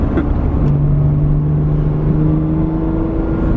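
Acura NSX sports car driving in a low gear, a loud, steady engine drone with a sustained low whine close up inside the cabin, without speech.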